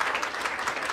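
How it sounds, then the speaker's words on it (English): An audience at a celebrity launch event for a plastic pollution campaign breaks into a short, dense burst of clapping heard close and alone. "a very big round of applause for him."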